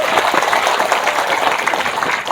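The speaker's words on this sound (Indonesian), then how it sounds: "Tepuk tangan dulu." Audience applause at a rally, steady and dense clapping from a large crowd that carries on without a break, with no voices over it.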